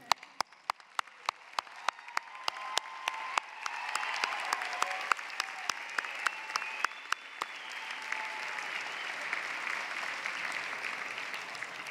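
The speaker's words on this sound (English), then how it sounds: "Please stand up and give yourselves a round of applause." Graduates of the class of 2017 and their audience applaud at a college commencement ceremony, sustained crowd clapping that swells and carries on, with a series of sharp, regular clicks on top.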